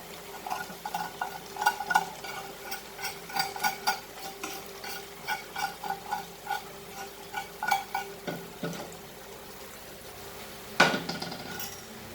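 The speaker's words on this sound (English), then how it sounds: "mix this very nicely and cook this for around 5 to 7 minutes" Prawns and curry leaves being stirred in a pan for Goan prawn balchao, with a steady run of utensil scrapes and clinks against the metal over a soft sizzle, close and fairly loud, no talking.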